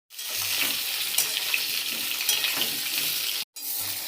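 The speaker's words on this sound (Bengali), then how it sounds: "আলুগুলো ভাজা হয়ে গেছে" Steamed potato pieces for aloo dum frying in a pan, a dense continuous sizzle with a few faint stirring knocks, close and steady, cutting out briefly near the end before resuming.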